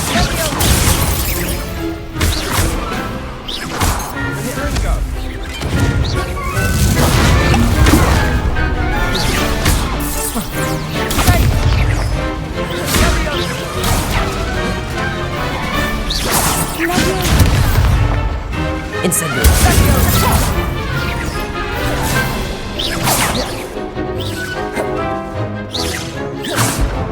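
Repeated Confringo spell blasts in Hogwarts Legacy crack and whoosh loudly in bursts, mixed with impacts and crashes over roughly half a minute, while a player calls out spells over the action.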